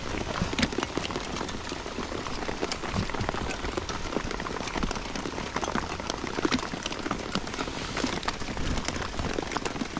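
Rain patters steadily on surfaces beside the River Thames during a club fishing match, a dense continuous crackle of drops close by with no voices.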